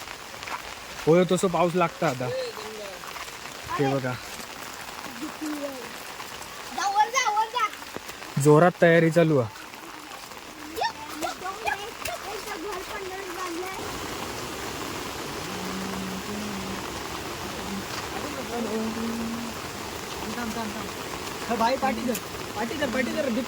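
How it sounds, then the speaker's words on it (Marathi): Evening rain falls steadily at a river weir, a constant hiss that continues throughout, with voices talking close by over it in the first half. "आता पाऊस चालू झालो"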